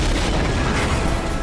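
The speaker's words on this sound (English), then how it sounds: "Great looking explosion." An explosion in an animated Star Wars: The Bad Batch episode roars as a loud, dense, sustained boom that fills the short stretch with continuous low rumble and no talk.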